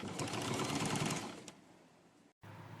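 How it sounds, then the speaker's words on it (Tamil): A sewing machine stitches a panel Anarkali dress cut from a saree, running in a steady fast whir for about two seconds, slowing, briefly cutting out and then starting again. "இப்போ இதை வந்து தச்சிடலாம்."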